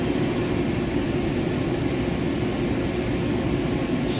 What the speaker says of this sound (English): Spindle is turning in place right now as we get ready to exercise the axes of the machine.